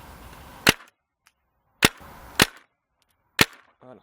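Paintball marker fitted with a 12-inch Labco barrel firing four sharp, loud shots at uneven intervals outdoors, each a crisp pop with a short tail, separated by near silence.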